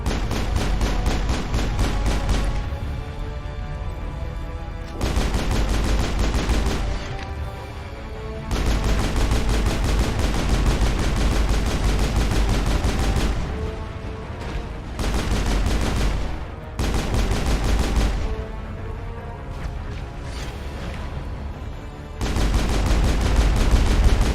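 Sustained pistol gunfire in Mass Effect on Insanity difficulty, loud rapid repeated shots in dense bursts broken by short pauses, alongside other combat noise.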